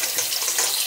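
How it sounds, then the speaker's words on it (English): Cold tap water pours steadily from a faucet over cooked udon noodles in a sink, a continuous close hiss and splash with no talking. "you still wanna put it underneath like cold water"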